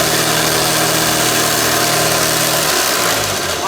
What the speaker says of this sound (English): They're tape sanders. It's a 1-inch tape.